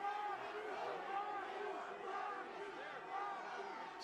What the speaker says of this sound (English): This crowd's pretty feisty, man.